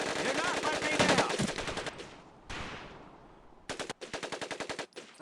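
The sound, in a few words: Tommy gun automatic fire, Medal of Honor: Pacific Assault video game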